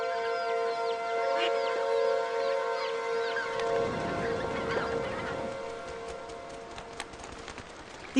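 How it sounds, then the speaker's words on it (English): Sandhill cranes on Arctic Herschel Island, after migrating from Mexico, call in a continuous chorus of rolling, trumpeting cries that overlap steadily throughout, with a low rumble of wind or movement underneath. "These sandhill cranes flew from Mexico, a 3-month journey."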